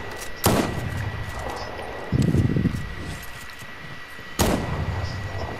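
Three sharp gunshots in the Fortnite video game, spaced a couple of seconds apart over a steady background hum, with a short rough burst of noise between them.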